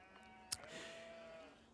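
Sheep bleat in a farming scene from the strategy game Age of Empires 4, with one short, faint call standing out above a quiet bed of soft game ambience and music.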